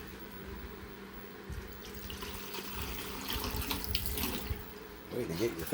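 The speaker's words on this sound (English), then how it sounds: "I'll fill your water bowl." Tap water runs from a faucet into a pet's water bowl, a continuous splashing stream with the pitch shifting as it fills, and a short clatter near the end.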